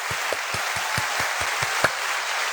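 A crowd applauds steadily, dense clapping filling the whole stretch at an even level without letup.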